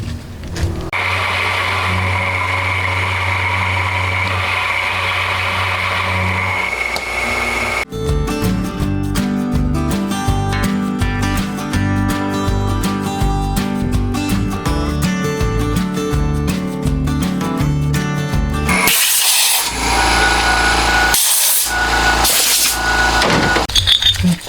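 Machining away the three excess tabs on small metal cam-retaining parts for a handmade twin-cam 16-valve four-cylinder model engine; a steady loud grinding drone runs throughout, shifting to a rhythmic chattering cut midway and ending in bursts and pauses.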